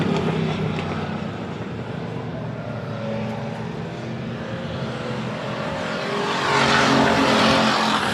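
Stock cars driven by rookie drivers lapping a race track, engines droning steadily with a louder surge near the end, heard from a distance without speech.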